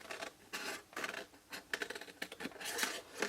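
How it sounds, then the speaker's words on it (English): Scissors cut through a paper box flap in short crisp snips and rustles, close and quiet, arriving in irregular bursts with no speech. "Let's cut that away, not too much, but enough"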